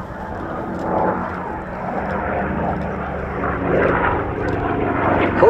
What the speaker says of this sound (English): did you hear that whistling noise during the dive?